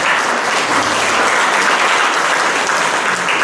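Loud, close applause rises from an audience at a Korean community gathering. The clapping is dense and sustained for a few seconds, with no talking.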